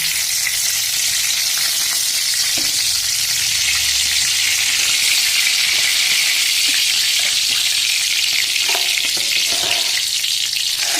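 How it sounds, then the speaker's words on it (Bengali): Bay leaf and whole spices frying in white oil, a loud, steady hissing sizzle that fills the whole stretch, with a few faint clinks and stirs beneath, close up and without talk. "এবার আমি সবজিগুলো ভাজবো। প্রথমে দিচ্ছি তেজপাতা,"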